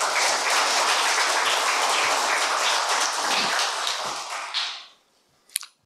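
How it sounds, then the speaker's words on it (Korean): Audience at a church lecture applauding to welcome a professor, a dense burst of many hands clapping for about five seconds before fading out, followed by a brief sharp tap. "박수로 환영하겠습니다."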